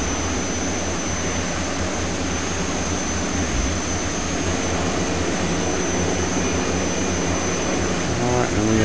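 Twin Otter amphibious floatplane in a flight simulator touching down on calm water, a steady loud engine and propeller roar with broadband wash throughout, no voices.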